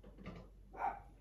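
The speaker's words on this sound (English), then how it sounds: "The dogs are barking." Two short barks from a dog some distance away, the second louder and more tonal, against a quiet room.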